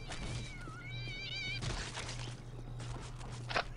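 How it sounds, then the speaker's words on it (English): Cats fall from the sky in the game Postal 2, with meows and caterwauling over a steady background hum and scattered thuds and footsteps. "All these cats just fucking falling from the sky"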